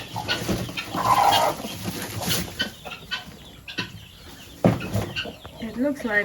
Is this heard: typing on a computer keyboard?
no